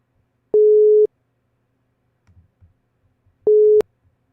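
Two electronic busy-signal tones sound on a phone call to a friend, each a short steady beep, with a long pause between them and faint background noise.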